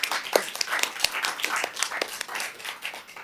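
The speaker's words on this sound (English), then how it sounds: "Can we all give a clap to this?" Attendees at a Brimbank council meeting clap in farewell to a departing member, a loose, uneven round of individual claps that rises and fades over a few seconds.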